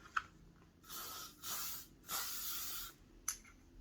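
Hairspray misted onto styled hair in a bun: two longer hissing bursts from an aerosol can, close and clear, framed by small clicks and handling noises in an otherwise quiet room.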